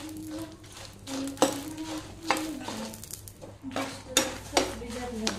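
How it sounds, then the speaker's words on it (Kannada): Fifteen Byadgi chillies and four other chillies frying in a little oil in a pan, with scattered metallic clinks and scrapes of stirring over a soft, low sizzle and a faint background hum. "ಇವಾಗ ಇದನ್ನು ಸ್ವಲ್ಪ ಎಣ್ಣೆ ಹಾಕಿ ಫ್ರೈ ಮಾಡ್ತಾ ಇದ್ದೇನೆ."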